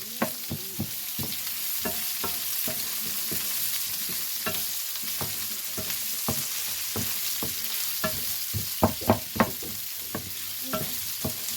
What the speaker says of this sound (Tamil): இப்போ இது வெங்காயம் வதங்கி வர வேணும்.